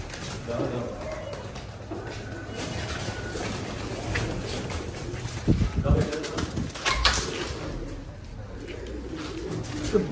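Mukhi pigeons coo at a pigeon farm in Chittagong, low murmuring calls with occasional wing flaps, under steady talk and background bustle.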